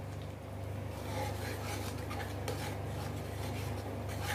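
Cashew paste and yogurt are stirred in a pot for dum aloo, giving a continuous close, soft scraping and rubbing of a spoon against the pot over a steady low hum, with no talking.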